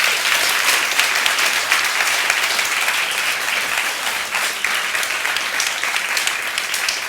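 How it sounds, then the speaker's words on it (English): Sustained audience applause fills a university lecture hall after a Nobel lecture event, steady broadband clapping that stays loud and even throughout with no pauses. "We'll give you one more hand of applause."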